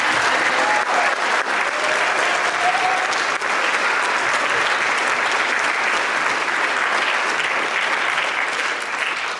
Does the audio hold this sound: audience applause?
yes